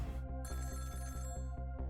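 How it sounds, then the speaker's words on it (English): A telephone rings in the video game Ghost Trick, a loud continuous electronic bell trill with rapid regular pulses. It plays alone with no talk over it. "About 2 hours before dawn, the phone rang."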